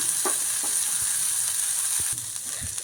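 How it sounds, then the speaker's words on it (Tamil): Boiled green beans stirred in a pan with salt and grated coconut for a sundal, a soft, steady scraping and mixing close by, with a faint background hiss and a few light knocks of the spoon. "வெந்த பச்சை பயிறு இதுக்கு தேவையான உப்பு தேங்காய் பூ இது எல்லாத்தையும் சேர்த்து நல்லா கிளறிடலாம்"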